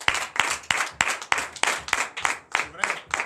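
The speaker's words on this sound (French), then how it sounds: "Veuillez donner l'acclamation au Seigneur." Members of a church congregation at a Sunday service in Comè, Benin, clap in unison. The claps are sharp, evenly spaced and close, with light voices underneath.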